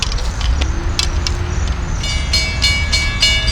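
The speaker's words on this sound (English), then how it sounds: "And here comes train 660 heading east." Port Jefferson Branch commuter train 660 arriving eastbound at a station during evening rush hour, a steady low rumble of the approaching train with rising rail hiss and clatter, no talk.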